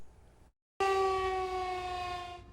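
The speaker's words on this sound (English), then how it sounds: "new fully functioning tornado sirens in Powell County" A newly repaired tornado siren in Powell County starts after a brief gap, a loud steady wailing tone that holds strongly and then slowly fades.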